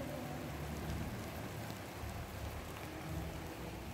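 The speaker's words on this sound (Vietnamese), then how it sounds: "Lại đổ mưa tới nữa rồi." Rain falls steadily over a lemongrass and eggplant field, a faint, even hiss of drops with no breaks across the whole stretch.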